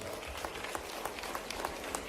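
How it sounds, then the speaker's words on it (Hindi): Audience clapping loudly on cue at a public dialogue event with Madhya Pradesh chief minister Mohan Yadav. The dense, steady applause runs throughout, with a faint murmur of crowd voices underneath. "जोरदार ताली बजाओ"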